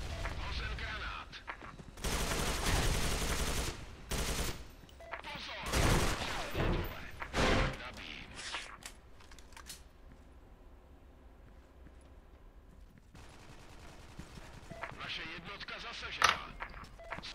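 Bursts of video-game gunfire and explosions, with rapid shots in clusters, mixed with game sound effects and occasional voices.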